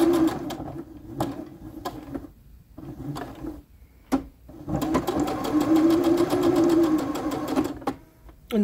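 A sewing machine backstitches fabric for a dress in short stop-start bursts, with a buzzing whir between pauses, then one longer run of stitching.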